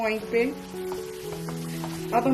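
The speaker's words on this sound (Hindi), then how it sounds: "अच्छा सा आपने इसको फ्राई करना है गोश्त को" Mutton sizzles in a frying pan, a steady low frying hiss running beneath someone talking throughout.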